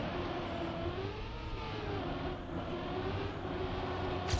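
A Trackmania car engine held at full throttle on a Route 66-themed track drones steadily and loudly, a sustained high whine with slight pitch wavering and no break, alone without talk.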